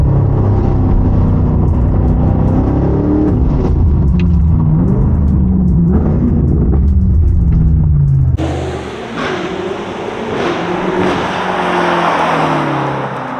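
A BMW M8 fitted with an Akrapovic exhaust revs and accelerates, loud and close, with a deep continuous engine roar that shifts abruptly partway through into a rougher, brighter exhaust note. No one speaks.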